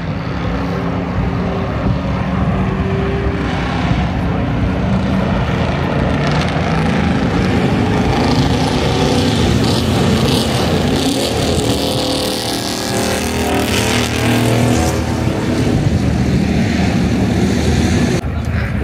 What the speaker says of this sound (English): we got the Ferrari parade coming around